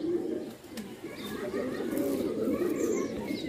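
Pigeons at a kabootar bazi pigeon sale coo in a low, steady throaty burble, several birds overlapping close by, with faint talk in the background.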